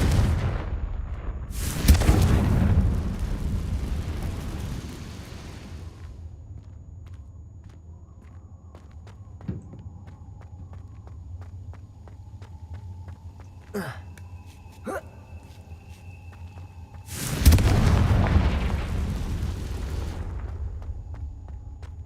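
Confringo fire-blast spell going off in Hogwarts Legacy: two loud, broad blasts roughly fifteen seconds apart, each with a roaring tail, separated by quieter stretches of faint ticking and chiming game effects.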